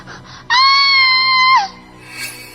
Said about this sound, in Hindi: मिनी चीख कर बेहोश हो गई।